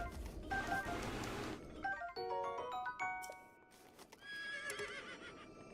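Horse whinnies and clip-clopping hooves in The Legend of Zelda: Breath of the Wild, loud and close, with a long neigh opening and shorter game chimes and tones scattered through; no talking.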